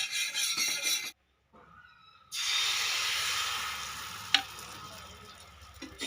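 White oil sizzles in a wok while dudh puli pitha fry, a loud steady hiss that cuts out briefly, returns strongly with a sharp clatter partway through, then fades slightly.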